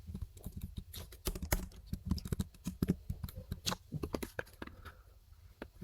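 Fast, uneven typing on a computer keyboard while writing code, crisp close key clicks in bursts with brief pauses, no talking.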